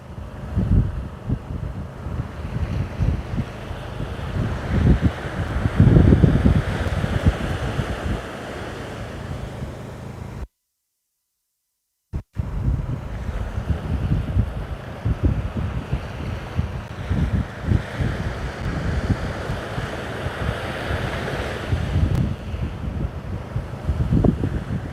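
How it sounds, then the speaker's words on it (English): Strong wind gusts across an Australian surf beach, roaring and buffeting the microphone over a steady wash of breaking waves, with a brief total silence partway through. "That wind is picking up"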